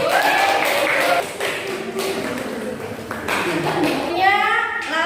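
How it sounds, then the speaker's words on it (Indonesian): Schoolchildren in a classroom clapping their hands, scattered taps and claps mixed with children's voices, fairly close and moderately loud, with a teacher speaking over the noise. "Beri tepuk tangan dulu."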